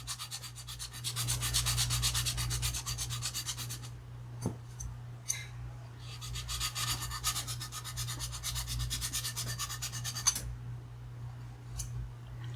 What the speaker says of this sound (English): I want to sand this down to where my finger does not catch an edge